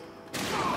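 Gunfire from a weapon in the video game Batman: Arkham Knight, a sudden loud burst of rapid shots that starts partway through and rattles on continuously to the end.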